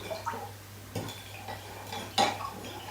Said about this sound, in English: So I'm just giving it a stir.